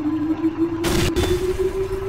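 A short burst of gunfire cracks once in Garry's Mod, then a second quick shot follows close behind, sharp and loud against a steady background hum.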